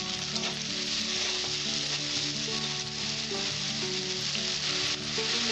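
Onions frying in hot oil with a steady, dense sizzle and crackle, close and even throughout, with light stirring and background music beneath.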